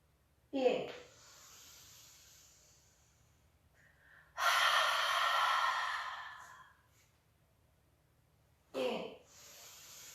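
Slow chair-yoga breathing: a short sharp breath, then a long steady airy exhale through the body of the phrase, followed by another quick breath, close and fairly loud with long quiet gaps between.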